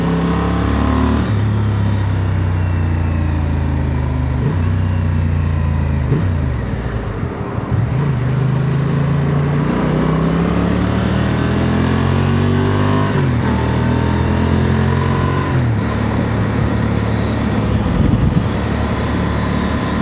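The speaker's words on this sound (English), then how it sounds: "But when I rev it, it sounds great." A 2025 Honda Transalp SP motorcycle engine revs repeatedly while riding, with several rising and falling throttle blips over a steady road and wind roar, close and fairly loud throughout.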